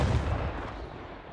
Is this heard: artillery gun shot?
yes